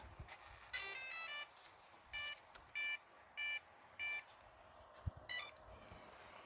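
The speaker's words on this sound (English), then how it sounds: "That sound when you turn on a car and it makes all that beeping, beep, beep, beep, beep sounds." A series of short electronic beeps from an Arrma Kraton RC car powering on, several evenly spaced tones after a longer opening beep, moderately loud over a low background hum.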